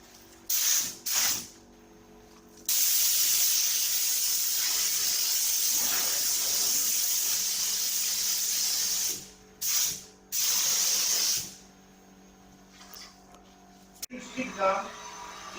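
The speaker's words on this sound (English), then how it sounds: "so put on a couple of kind of heavy coats to get the colour on there" An aerosol spray can lays silver paint onto a Porsche Boxster 986 centre console in loud, close hissing bursts, one long sustained pass and several short sprays with pauses between.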